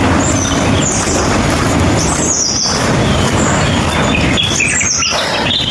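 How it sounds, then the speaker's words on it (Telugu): Birds chirp and tweet in bursts over a dense, steady outdoor wash of forest ambience, fairly close and continuous throughout. "పక్షులు కిలకిల రావాలైతే వినపడుతున్నాయా?"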